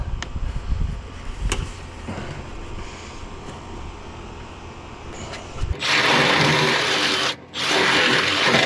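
A power drill bores into the steel door of a 1993 Ford Mustang Fox-body LX hatchback, starting with quieter clanks and scraping inside the door before a loud, steady whine kicks in with a brief pause midway.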